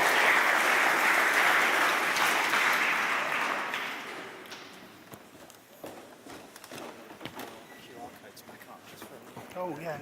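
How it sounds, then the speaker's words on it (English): A conference audience applauds a speaker, a loud full round of clapping that fades out after about four seconds, followed by quieter room noise, shuffling and talk. "Can we have another round of applause, please, for Dr. Basham?"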